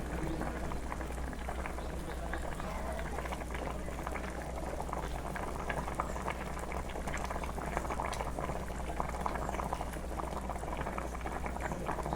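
A pot of mutton kuzhambu bubbles at a steady, rolling boil, with a continuous dense gurgling and popping that holds throughout and has no talking.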